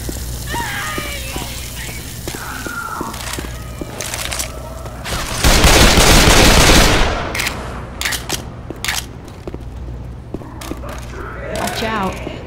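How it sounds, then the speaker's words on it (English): Shotgun blasts and other weapon fire in Left 4 Dead 2, Dark Carnival, crack in scattered loud bursts, with a longer roaring burst in the middle, over a low steady game background. "This shotgun will put the hurt on them zombies"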